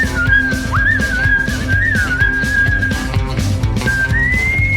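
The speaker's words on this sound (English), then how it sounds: "Okay, I can't whistle like that." A catchy country-style line-dance song carries a clear, sustained whistled melody with sliding pitch over a steady beat and backing instruments, loud and close, with no talking.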